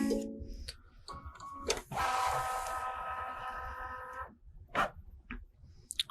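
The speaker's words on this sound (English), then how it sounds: "So machine's moving the hoop around, and it's going to take a detailed picture of everything in the hoop." A Brother embroidery machine moves its hoop around to scan it, giving a close mechanical whir and motor drone of a few seconds, framed by scattered clicks and knocks before and after, with no voices.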